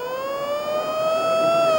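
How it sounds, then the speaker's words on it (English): A steady wailing warning siren at Flemington Racecourse holds a sustained tone that slowly rises in pitch, loud and continuous with no other sounds. "there is a warning siren"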